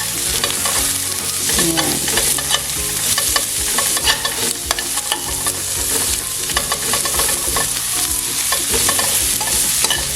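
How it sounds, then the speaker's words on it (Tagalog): Onions frying in a pan for pork ribs in sarsa, with a dense, bright sizzle and frequent scraping stir strokes throughout, close and loud; one short word is spoken over it. "Ilagay na rin natin ang ating sibuyas."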